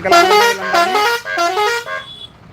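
Buses pull out of a Hindu religious rally in Vijayawada, their horns sounding about three loud, close blasts in quick succession, the last one trailing off.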